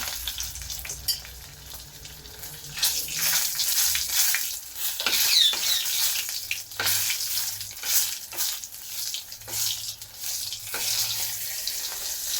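A hilsa fish tail frying in a pan with three dried chillies, giving a steady close-up sizzle with scraping stirs and occasional pops throughout.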